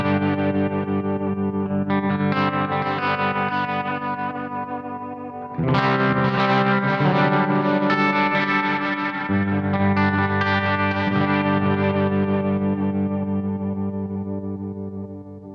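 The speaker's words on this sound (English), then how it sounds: "I can turn on the vibrato" Electric guitar through a Bluguitar Amp1 with its vibrato engaged, sustained wavering clean chords ringing out and changing every few seconds, steady and moderately loud, no voices.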